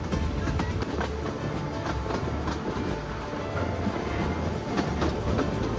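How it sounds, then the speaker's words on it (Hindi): A 110-year-old narrow gauge train running from Bilimora to Waghai through forest and hills rumbles along with steady rhythmic wheel clatter, loud and continuous throughout. "जब ट्रेन हरे भरे जंगलों और लहरदार पहाड़ियों से होकर गुजरती है"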